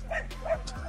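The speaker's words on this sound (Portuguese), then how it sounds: "Oxe, cachorro maluco." A dog barks and yips in short excited bursts near a dirt slope where mini BMX riders go down, over steady outdoor background noise.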